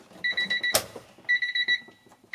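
An electric fuel pump is switched on for a test and gives short bursts of high, steady whine with a sharp click between them. The sound is close and moderately loud, with no talking.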